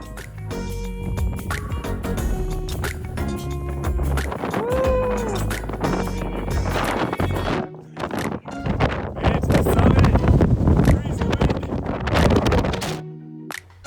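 Strong gusting wind roars and buffets the microphone on the rocky summit of Mt Shasta, surging louder in the second half, with brief muffled sounds in between.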